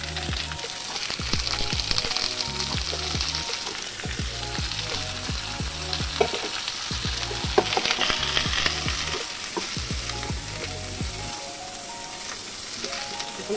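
Pointed gourd (potol) sizzling in hot oil in a pan over lowered heat, a steady dense crackle with scraping and stirring clatter throughout, no voices.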